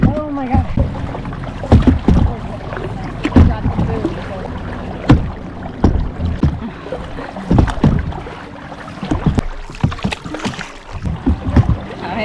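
Paddles splash and pull through the water in an uneven rhythm during a kayak race, mixed with wind buffeting the microphone, while people talk over the strokes.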